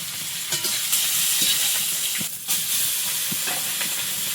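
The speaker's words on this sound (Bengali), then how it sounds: "কড়াইয়ে তেল দিয়ে দিলাম শাকটা আগে চাপিয়ে দেবো তেলের মধ্যে রসুন আর কাঁচা লঙ্কা" Greens fry in a wok of hot oil with garlic and green chili, giving a loud, close sizzle and hiss broken by scraping stirs and spatters, with no speech.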